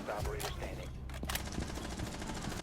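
Gunfire in the Rainbow Six Siege video game on the Consulate map, several sharp shots cracking over a constant game background, with some quiet speech mixed in.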